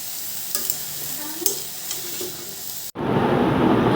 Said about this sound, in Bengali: আগে একটু শক্ত সবজিগুলা দিলাম, তারপর একটু ভাজা ভাজা হলে গাজর ক্যাপসিকাম দিব